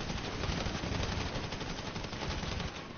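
Continuous rapid gunfire from a GTA shootout, dense and loud, with rattling bursts running through the whole stretch without pause.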